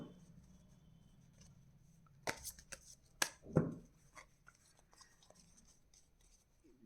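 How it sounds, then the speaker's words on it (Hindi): Tarot cards are shuffled and drawn, heard as a few quiet, close rustles and flicks, with one brief riffle in the middle and no talk. "कुछ कार्ड्स और निकालते हैं।"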